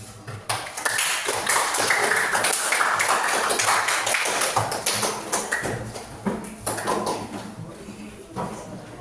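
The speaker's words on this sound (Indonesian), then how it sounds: "Ayo beri tepuk tangan." Students in an Islamic religious education classroom clap together, a dense, lively patter of many hands sustained for several seconds before thinning out near the end.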